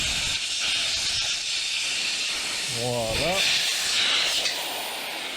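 Air hisses steadily out of a motorcycle tyre with its valve core removed, a loud continuous rush that persists throughout as someone speaks briefly over it.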